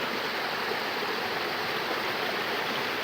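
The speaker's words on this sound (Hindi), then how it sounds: "यहाँ से पानी आ रहा है, ये पानी नीचे जा रहा है।" A hillside stream swollen by a day of heavy rain rushes downhill, producing a steady, close, even hiss of flowing water with no breaks or voices.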